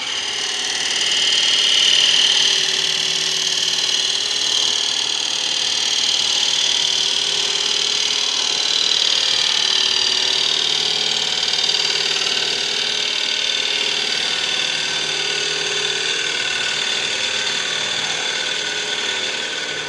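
Wood lathe spinning while a tool hollows out a small wooden box, giving a steady, close whirring hum with a scraping hiss from the cut and no talking.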